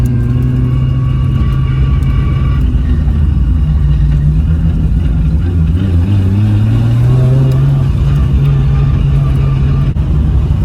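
A Nissan Skyline GT-R R34 fitted with a 2JZ engine hums steadily and then climbs in pitch as it accelerates, a loud, close rumble with no voices over it.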